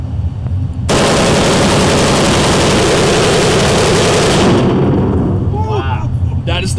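Sustained automatic AK-47 fire on a Las Vegas shooting range, a loud continuous rattling burst lasting several seconds before cutting off, followed by a brief quieter tail with faint voices.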